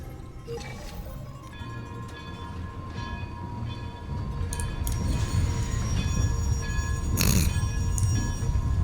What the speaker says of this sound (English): Could wait for the train to arrive or summon my own train.